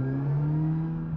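A Suzuki GSX-S1000 GX motorcycle engine holds a loud, steady, close-up drone, its pitch creeping slightly upward for about a second with no voices over it.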